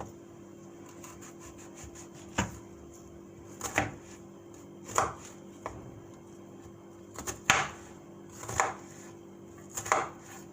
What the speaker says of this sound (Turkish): Şimdi soğanımızı doğruyoruz.